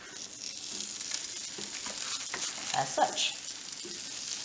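Homemade veggie burger patty sizzling as it is placed on a lightly oiled, preheated griddle, a steady crackling fry with a few brief louder pops, close up, briefly under a voice.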